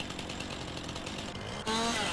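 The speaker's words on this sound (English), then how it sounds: "It's been a while since I ran a chainsaw." Chainsaw running while felling trees in the video game Farming Simulator 19, a steady loud engine drone throughout that rises sharply and grows harsher near the end as the blade bites in.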